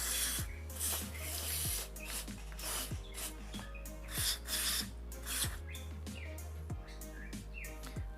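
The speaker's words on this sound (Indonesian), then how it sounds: "semprot aja pakai karbu cleaner" Carburetor cleaner sprayed onto a Yamaha F1ZR motorcycle carburetor, heard as repeated hissing aerosol bursts in a rhythmic series of short sprays over a steady low engine-like hum, fairly close, with chirping birds in the background.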